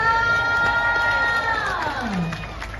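A crowd cheers and shouts at an outdoor community creative-aerobics competition in Bandar Lampung, a steady loud roar with one long voice-like cry that slides downward near the end.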